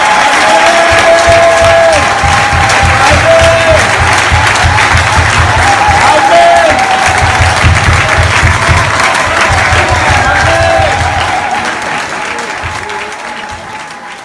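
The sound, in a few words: audience applause acclaiming church board president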